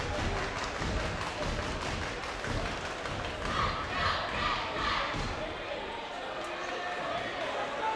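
Gym crowd at a boys high school basketball game, Penn Trafford at Gateway, with the home Gators cheer squad rallying fans. A steady, dense wash of crowd noise with thumps and ball bounces, and voices mixed in.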